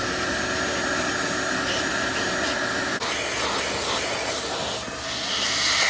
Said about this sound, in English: I'm gonna grab my vacuum and vacuum these areas out before we put the new ones on